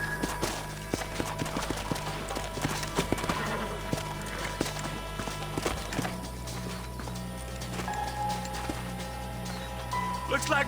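Horses' hooves clip-clop on dirt in the Red Dead Redemption western game near the old Pleasant's house, a steady walking rhythm under a low ambient drone, with occasional faint snorts and quiet background sounds.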